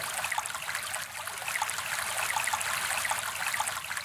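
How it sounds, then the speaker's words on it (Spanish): Water running from a tap in the Bluey video game, a steady bright splashing stream that is loud and continuous for a few seconds, alone with no talking. "ahora abrimos el grifo"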